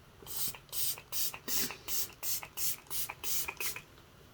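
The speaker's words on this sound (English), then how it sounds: "let's do just a touch of some setting spray" A series of short, airy spray bursts, about eight in a quick steady rhythm, close and soft with brief pauses between.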